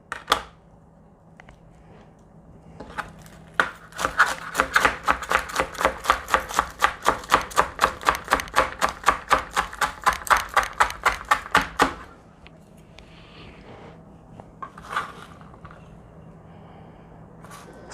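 Knife chopping green onions on a cutting board for beef ramen: a rapid, even run of about thirty crisp close chops, preceded by a few scattered taps and followed by quiet with a couple of light knocks.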